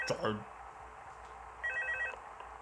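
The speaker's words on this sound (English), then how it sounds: "Pick up the phone." A telephone rings in the video game Five Nights at Freddy's 2, a short electronic trill at the start and again later in the clip, fairly faint behind a quiet hum.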